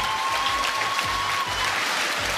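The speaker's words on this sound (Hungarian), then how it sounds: "Nagy tapsot szeretnék!" Audience at a team competition results announcement gives sustained, even applause, a dense continuous wash of clapping.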